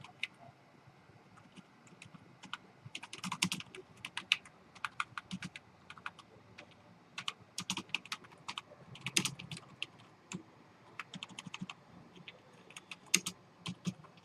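Code being typed on a computer keyboard: quick bursts of close, crisp key clicks in an uneven rhythm with brief gaps between runs, no speech.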